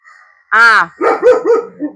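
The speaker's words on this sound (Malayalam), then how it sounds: "അവര് ഉറക്കെ സംസാരിക്കണേനാണ് ചാർലി കുരയ്ക്കണ" A pet dog barks at home: one loud, sharp bark, then a run of shorter, rougher yelps and whines close to the microphone.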